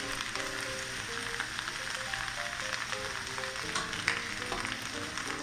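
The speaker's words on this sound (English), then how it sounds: "Then I'll add in my tomatoes. And keep on stir fry it until it's softened." Garlic, onions and tomatoes stir-fried in a pan for Hong Kong style baked pork chop rice, giving a steady low sizzle with faint stirring scrapes and soft music playing underneath.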